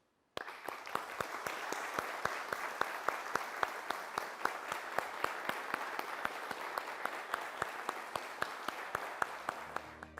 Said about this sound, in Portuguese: eu vou pedir um grande aplauso para quem trabalhou e para quem está trabalhando até hoje